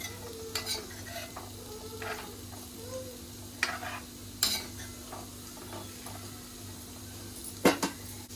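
Small prawn curry with raw mango being stirred in a pot, a spoon scraping and clinking against the metal in scattered strokes over a faint low hum, with a few sharper knocks near the end.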